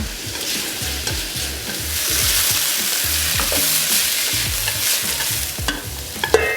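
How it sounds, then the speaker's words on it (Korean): Carrots and bell peppers stir-fry in an oiled pan for Korean japchae, with a steady sizzle broken by repeated scraping strokes of the spatula and a few sharper clinks near the end; no one speaks. "그 다음에는 당근을 볶을게요. 당근하고 이 피망은 색깔이 비슷하니까 그냥 같이 볶아요."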